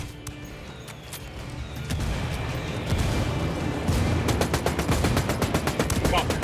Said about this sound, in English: Call Pakatari for some mortar fire.